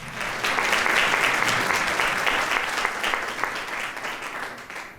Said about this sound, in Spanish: Denle un aplauso al Mauri, porfa.